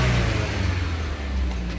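Audi TT engine running after a repair, a steady low hum close by with a slight rise in revs, no voices.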